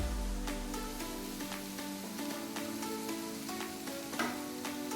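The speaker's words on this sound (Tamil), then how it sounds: "இந்த டைமில் நம்ம பன்னீர் ஆட் பண்ணிக்கலாம்" Paneer sautéing with onions in a pan, a soft steady sizzle broken by light spoon scrapes and taps at an even pace, quiet and close, with no voices.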